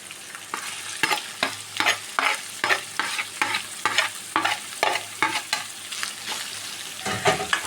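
Chopped onions and three green chillies frying in a pan, stirred in a steady rhythm of about two scraping strokes per second over a soft sizzle, close and alone.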